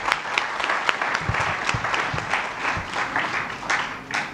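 Audience applause at an academic event on scientific meditation and stress coping, honoring a university vice chancellor: steady, dense clapping across the room with individual sharper claps standing out, continuous throughout.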